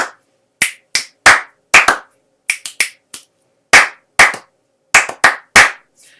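Hand clapping in a syncopated rhythm for a classroom name song, about fifteen crisp, close claps in short groups with small gaps, with no voices.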